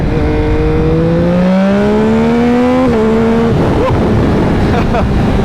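A 2021 Yamaha MT-09 motorcycle with a flashed ECU accelerating hard, its engine note climbing steadily in pitch through the gears with a loud, close, continuous roar and brief dips at each shift.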